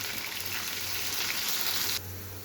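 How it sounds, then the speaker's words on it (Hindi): Onions sizzle in hot oil in a pan while cooking a dhaba-style keema pyaz dish, a steady, fairly quiet frying hiss that softens slightly toward the end. "प्याज डाल के हम इनको लाइट ब्राउन कर लेंगे।"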